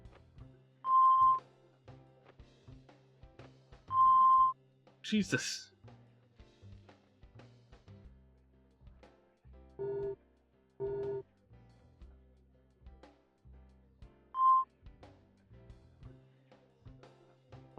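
Video game beep speech from the survival horror game Deadly Premonition: Origins, with short electronic tone bursts in clipped, speech-like sequences among game sounds, and a voice talking briefly over it.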